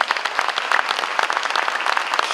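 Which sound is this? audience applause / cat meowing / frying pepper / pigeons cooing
audience applause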